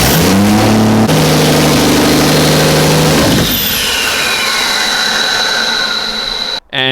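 A Ford Barra engine cranks and fires up, running with a steady mid-pitched drone and strong harmonic tone for about three seconds before falling to a rougher, quieter idle, close and loud with no talking.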